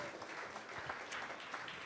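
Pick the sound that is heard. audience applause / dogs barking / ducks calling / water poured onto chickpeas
audience applause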